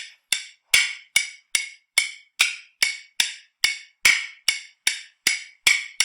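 Spoons played against the leg in a steady rhythm give crisp, bright clacks at an even pace, about fifteen strikes in a row. They sound close and dry, with no talk over them.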